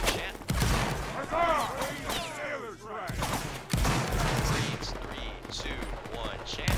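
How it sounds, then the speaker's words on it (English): Musket volleys ring out in a multiplayer battle game, sharp gunfire cracks bursting repeatedly over several seconds while shouted commands carry over the battlefield noise. "Keep firing, keep firing."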